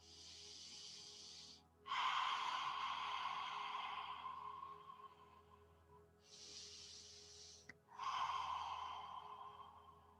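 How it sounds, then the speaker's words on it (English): Two long, forceful breathy exhales of yoga lion's breath, each rushing out as a loud throaty hiss and fading slowly, with quieter inhales between them and no talking. "Let's take 2 more lion's breaths."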